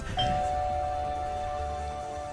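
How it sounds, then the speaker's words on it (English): A doorbell chimes once, a clear bright ding that rings out and fades slowly over a couple of seconds, loud and close in a quiet room with no talking. "I'm not going to get used to that doorbell."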